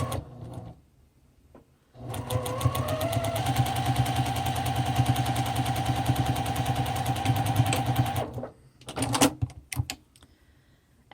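A sewing machine runs in one sustained burst of rapid, even stitching lasting several seconds as it closes a puppet head, with short clicks and handling noises before and after.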